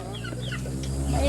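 Chickens cluck and chatter close by in a rural yard in the Philippines, with short overlapping calls over a steady low background hum.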